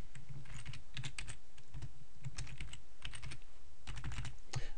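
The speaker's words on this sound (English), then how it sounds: "Then in there we just type read more." Close, steady tapping on a computer keyboard as a short phrase is typed into a website theme's settings, the irregular key clicks sitting over a constant low background hum.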